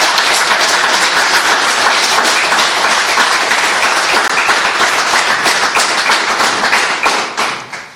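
An audience bursts into loud, dense applause for a speaker honouring Davit Hambardzumyan, the clapping sustained evenly and close before tapering off at the end.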